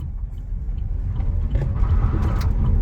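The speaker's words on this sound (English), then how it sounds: "this car in sport mode with a 0 to 40 to 0, full acceleration and full ABS braking" A Chevrolet Bolt EV electric car accelerating hard at full power in sport mode from a standstill toward 40 mph, a steady low road and motor rumble that builds slightly and holds close throughout.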